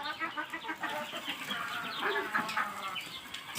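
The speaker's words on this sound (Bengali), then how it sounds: "দেখতে পাচ্ছেন 10 সদস্য মুরগি কত সবকটা খাচ্ছে।" Ten desi chickens eating from a homemade feeder, soft overlapping clucks and low chatter from the flock, fairly quiet and close, with no talk.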